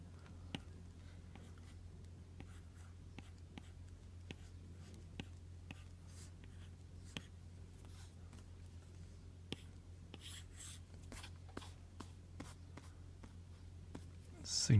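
A pen scratches in short, rapid strokes across a banknote, faint and close, over a low steady hum, while someone talks quietly.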